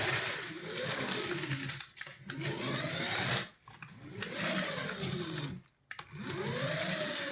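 A small budget RC toy car's electric motor whines close by, rising and falling in pitch over several runs, with short dips where it slows or stops between bursts of speed.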